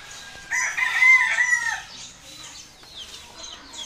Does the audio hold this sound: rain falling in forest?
no